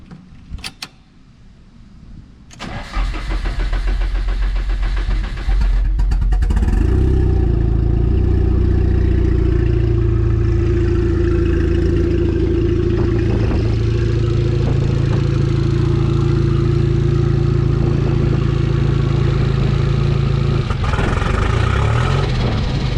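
A Nissan S13 coupe's engine cranks with a few clicks and thumps, catches, and settles into a loud, steady, close idle with a constant droning hum.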